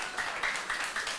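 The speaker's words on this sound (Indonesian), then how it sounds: "Kita tepuk tangan ya untuk Maluku." Brief, fairly faint clapping from an audience at an election supervisory agency event in Maluku, Indonesia, a few soft rhythmic claps blending into a hiss of room noise.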